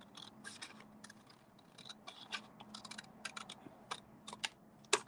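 Scissors snip through folded card along a score line while making an envelope card, giving a run of sharp, close clicks and cuts at an irregular pace, with a louder snap near the end and no talk.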